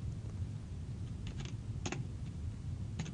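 Code typed on a computer keyboard, quiet scattered key clicks in short bursts over a low room hum.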